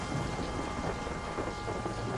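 Steady rain pours down with a low rumble of thunder rolling underneath, a dense, continuous storm wash with no pauses, close and full.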